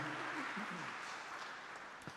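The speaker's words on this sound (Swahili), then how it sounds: "Ungempigia Bwana makofi mengi." A church congregation claps steadily through a Swahili morning praise service, a dense sustained wash of applause with a few voices over it at the start that thins slightly toward the end.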